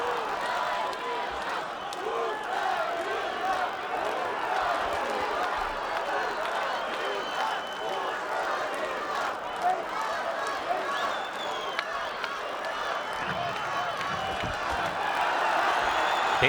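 A home crowd roars at a World Series of Boxing team-finals bout as ROUZBAHANI presses GVOZDYK, a dense and steady wash of cheering that holds for the whole stretch beneath a commentator's voice.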